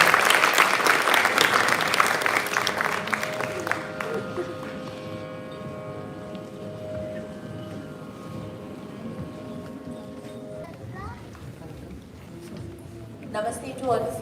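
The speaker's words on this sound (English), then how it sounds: "Can we have another round of applause to get the energy?" Audience applause at a Carnatic music performance with ghatam, at a cultural center's Founder's Day event, loud and dense at first, then fading under a long sustained tone before brief clapping returns near the end.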